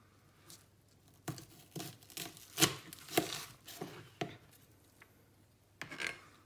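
Sharp kitchen knife chopping an onion on a board while making chicken tikka masala, about a dozen crisp, irregular cuts spaced through the clip, close and fairly quiet.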